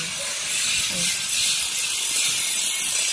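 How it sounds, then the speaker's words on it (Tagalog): Arc welding going on near a house with laundry hung out to dry, heard as a loud, continuous crackling hiss that runs steadily for the whole stretch with no voices over it. "May nag-i-welding."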